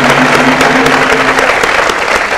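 Studio audience applauding on a Bhojpuri television quiz show, a dense, loud, steady patter of clapping throughout with a faint tonal hum beneath.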